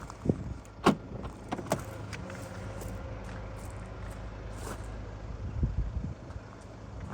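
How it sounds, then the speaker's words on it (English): Power tailgate on a Jaguar XF 2.2d R-Sport Sportbrake diesel estate running; a quiet, steady electric motor whir with a few soft clicks and thumps, heard close up. "Power tailgate."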